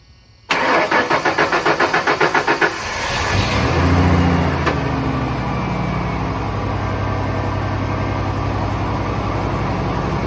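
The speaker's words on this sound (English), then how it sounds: "All right, first time cranking this truck ever." A 1994 Ford F150 4x4 pickup's starter cranks in a rapid, even rhythm for about two seconds before the engine catches, revs up loudly, then settles into a steady close-up idle with no talking.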